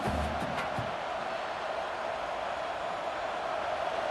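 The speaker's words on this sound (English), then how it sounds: "This crowd bringing the energy and noise early." Dense, steady roar of a large stadium crowd in the video game College Football 26, Wisconsin vs USC, loud and continuous with no break, a few brief swells of cheering near the start.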